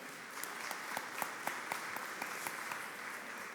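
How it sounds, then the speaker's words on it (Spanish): Sustained applause from a crowd at a university journalism week event, steady and dense with scattered sharper claps standing out, moderately distant with no voices. "Fuerte el aplauso para él."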